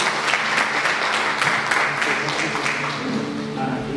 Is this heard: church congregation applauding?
yes